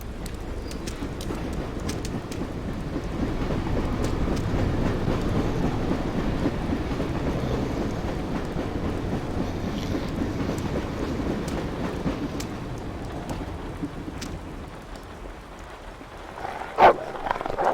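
A train in Dreamfall: The Longest Journey rumbles steadily as a low, continuous roar for most of the stretch, easing off near the end before a brief sharper sound.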